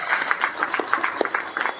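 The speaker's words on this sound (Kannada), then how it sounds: "ಹಾಗಾಗಿ ಒಂದು ಜೋರಾದ ಚಪ್ಪಾಳೆ." An audience at a Ganesh festival gathering by the Kaveri group in R.T. Nagar claps, a brief burst of dense, lively applause heard fairly near.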